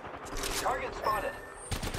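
Gunfire rattles in Apex Legends as bursts of shots mix with game effects and a faint voice, close and fairly loud over a short span.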